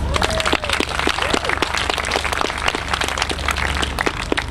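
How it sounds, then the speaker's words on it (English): An audience at a tech talk on iPhone development welcomes the next speaker with continuous, dense applause, many hands clapping at once over a steady low room hum. "So let's give him a round of applause."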